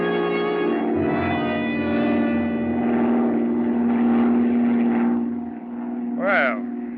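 An airplane flies as a radio drama sound effect, a steady droning engine hum that holds throughout with voices speaking over it, plus a brief swelling whoosh near the end.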